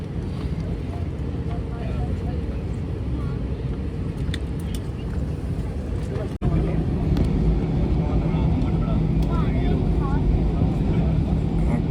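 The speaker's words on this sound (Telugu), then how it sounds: "ఓకే, ఫ్లైట్ స్పీడ్ అందుకుంది." A passenger flight from Bangalore to Goa accelerates down the runway. A loud, steady roar of engine and rushing air heard from inside the cabin surges up partway through, with faint voices beneath.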